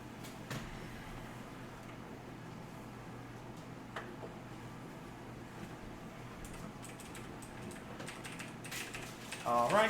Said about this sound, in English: Grab my keyboard, grab my mouse.